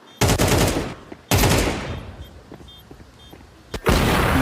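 Rapid gunfire bursts during a Counter-Strike 2 professional match, loud and close, with a few quick shots separated by sparse quieter clicks and ambient game sounds.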